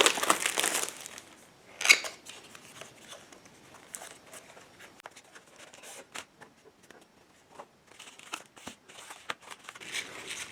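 Packaging for an action camera is torn, crinkled and handled up close, with sharp rustles and crackles in irregular bursts, loudest at the start and again toward the end, with no talking.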